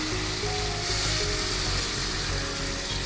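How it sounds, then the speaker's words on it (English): Mutton charsi karahi sizzles steadily over a high flame as yakni stock goes in, a loud continuous frying hiss with faint stirring, no voices. "Now we are going to add the yakni."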